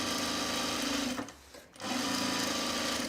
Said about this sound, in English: I'm just edge stitching this side so that it looks symmetrical now